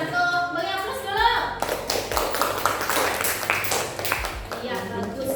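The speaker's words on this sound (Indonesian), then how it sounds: "Beri aplaus dulu." Classroom of students applauding after a group presentation, a burst of scattered hand claps and taps that starts after a short pause, with voices talking throughout.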